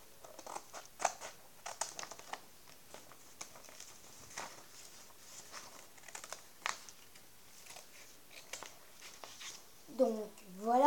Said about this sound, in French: Et on découpe le petit bonhomme vraiment très petit